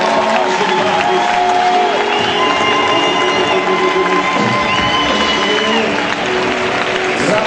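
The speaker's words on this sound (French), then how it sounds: "Est-ce que tu peux d'abord faire monter l'acclamation à Dieu?" Church congregation at a prophetic gathering cheering, whooping and applauding in acclamation to God, a loud, continuous wash of crowd noise with shouts rising over steady clapping throughout.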